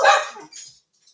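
A single sharp, loud dog bark rings out close by, followed by a brief softer tail and quiet.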